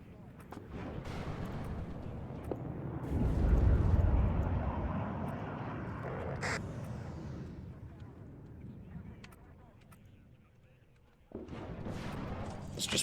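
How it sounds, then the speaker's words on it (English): Grenade launcher firing in the Warno real-time strategy game, distant booming blasts and rumbling explosions mixed with gunfire over a steady battlefield din, a louder burst near the end. "Grenade launcher doing more work."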